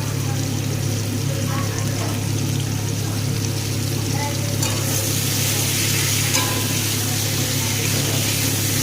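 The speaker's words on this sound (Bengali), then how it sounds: "ভালো করে কষিয়ে নেব মশলার সাথে" Chopped capsicum and onion stir-fried with spices in a pan for paneer chilli, a steady sizzle with stirring scrapes and a constant low hum beneath, continuous and close.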